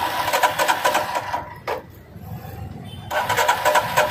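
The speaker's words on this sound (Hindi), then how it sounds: "अभी गाड़ी मेरी स्टार्ट नहीं हो रही है।" A Royal Enfield Himalayan BS6 motorcycle failing to start, with loud bursts of starter cranking at the start and end, a short sharp click in between and a quiet pause.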